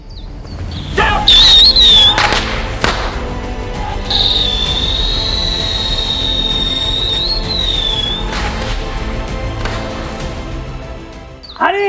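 A red-hot ball sets off rockets and firecrackers: loud cracking bangs and fizzing, then a long shrill whistling squeal for several seconds, sharp pops throughout and a final burst at the end.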